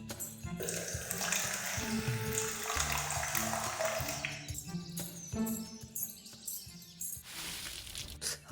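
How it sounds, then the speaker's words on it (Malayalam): Water is scooped and poured over a person in an audio drama, a close gush and splash lasting a few seconds, followed by smaller trickles and a second brief pour. "എൻ്റെ ദേഹത്താണ് നീ വെള്ളം കോരി ഒഴിച്ചത്"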